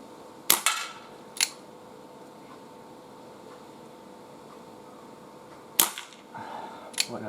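A Webley 4-inch .22 Police revolver fired at targets outdoors on a gusty day, with four sharp cracks spaced irregularly over several seconds against a quiet windy background.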